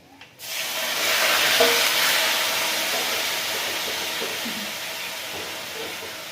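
Turmeric and salt are tipped onto garlic in a hot kadhai for mutton rassa, setting off a sudden loud sizzle that swells quickly and then holds as a steady, hissing fry close by.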